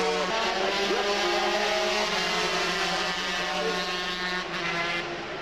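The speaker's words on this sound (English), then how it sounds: "Ian Lougher crouching down over that little 125 Scania Honda." A 125cc Honda road-racing motorcycle screams at high revs during a 1997 race at Oliver's Mount, its buzzing engine drone loud and sustained as it passes.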